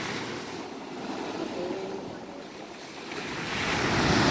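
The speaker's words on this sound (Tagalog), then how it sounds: "Lakas pa rin ho ang alon." Steady roar of heavy surf at night on the coast at Dela Paz, Batangas City, with wind rushing over the microphone, the wash of breaking waves swelling louder toward the end.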